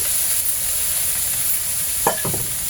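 Onions and green chilies fry in oil before greens are added, a steady close sizzle with a couple of quick stirring scrapes near the end.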